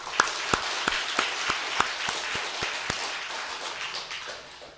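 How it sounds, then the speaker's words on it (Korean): Church congregation applauding in a sanctuary, a broad wash of many hands clapping with distinct sharp single claps standing out at first, holding steady and easing off toward the end. "수고해 주십시오. 박수."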